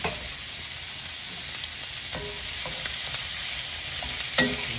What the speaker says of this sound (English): Got that on high heat right now until we get this all browned.